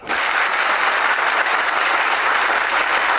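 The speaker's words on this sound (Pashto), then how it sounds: "دا چک چک ډیر ضعیف وو" An audience claps in steady, dense applause, an even wash of many hands at moderate level that starts abruptly and continues without voices.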